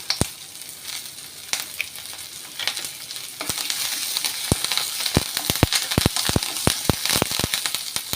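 Shallots, ginger, chilies and curry leaves fry in hot oil for a fish fry masala: a close, steady sizzle with scattered sharp pops and crackles that grow louder and more frequent toward the end, with no voices.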